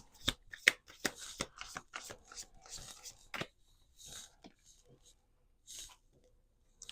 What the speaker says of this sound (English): Okay, 2 shuffles.